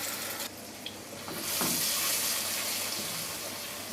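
Garlic ginger paste hits hot oil in a cooking pot and sizzles, a loud, steady frying hiss that swells after a moment and keeps going.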